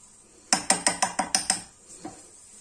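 A utensil stirs tuna and pasta shells in a dish, giving seven quick, evenly spaced metallic clinks in a crisp close burst, then one softer knock after a pause.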